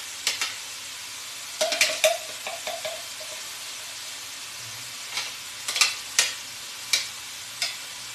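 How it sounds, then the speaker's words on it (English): Onion fries in a pan while being stirred, a faint background sizzle broken by repeated short scraping and tapping strokes of a utensil against the pan. "I'm going to stir that up."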